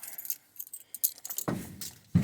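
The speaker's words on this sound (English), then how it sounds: "Let me find my keys." A set of car keys jangles and clinks in hand while being sorted through near a rat rod, in bursts of small metallic rattles, close and fairly quiet, ending with heavier handling thumps.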